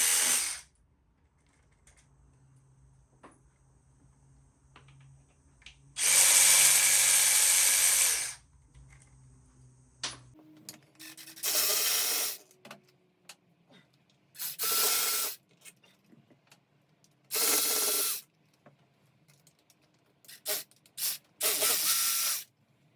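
Ratchet wrench backing out cover bolts on a Harley-Davidson Sportster motorcycle: several loud bursts of ratcheting clicks, each a second or two long, separated by short pauses and faint handling noise.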